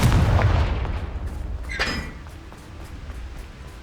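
A Confringo blasting spell cast in Hogwarts Legacy, a single booming burst with a bright crackling impact in the middle, following a rumbling low start and fading into a quieter tail.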